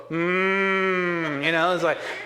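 A voice imitates a church congregation mooing, giving one long, sustained, nasal cow-like drone that wavers and bends in pitch near the end, loud and close.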